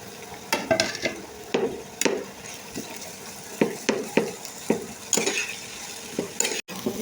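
Vegetables with onion and green chili stir-fried in a wok for Chinese-style noodles, a sizzling base broken by a series of sharp, rhythmic spatula scrapes and clanks about every half second, loud and close, without speech.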